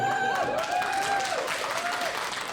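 An audience claps in a short burst of applause during a Lithuanian comedy show, fairly loud, with a voice rising over the clapping.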